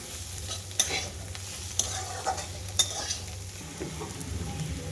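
Bitter gourd and onion frying in a pan, a steady sizzle beneath repeated stirring, with a few sharp scrapes of the spatula against the metal every second or so, close and moderately loud.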